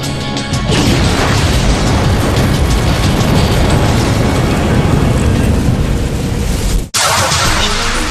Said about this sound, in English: A bomb explodes outside the Murrah Building in Oklahoma City.